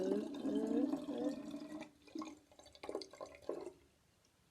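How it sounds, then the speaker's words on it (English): Water is poured into a bottle during a simple home science experiment, a trickling, gurgling pour at first that breaks into a few shorter splashes and drips, close by with no talking. "then we're going to pour some water into it"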